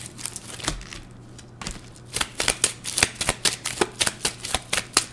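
Playing cards being handled, drawn and shuffled, a close run of crisp riffling flicks in a quick rhythm after a brief pause, loud and alone.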